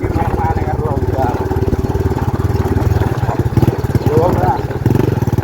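A motorcycle engine runs steadily and close by throughout, a constant rumbling idle with slight variation, while people talk over it on a rural errand delivering cassava.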